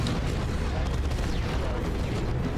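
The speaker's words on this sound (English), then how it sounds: "call in artillery" An artillery strike in the video game Dawn of War 2 rolls out as a loud, continuous low rumble of dense booming blasts that fills the whole stretch without a break.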